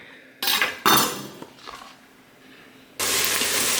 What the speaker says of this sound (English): now I'm just going to brown up my diced onion